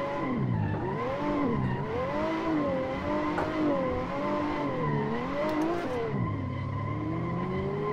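A Stage 3 BMW 1M does a third gear burnout at a hillclimb, its engine revving loud and steady as tires squeal in long wavering tones that rise and fall for several seconds.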